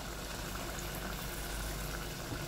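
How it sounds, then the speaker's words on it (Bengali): Tamarind water is poured into a pot of chicken dalcha, giving a steady, continuous liquid rush with gentle bubbling that stays even in level throughout, with no voices. "এই তেঁতুল গোলা জলটা আমি হাফটা দিয়ে নেব উপর থেকে।"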